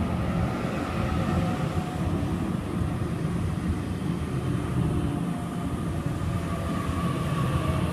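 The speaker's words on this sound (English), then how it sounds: "We have A16 arriving into platform number 1" A Sydney Trains A16 set pulling into platform 1 at Birrong station, a steady loud rumble of wheels and motors rolling in close by, with no voices.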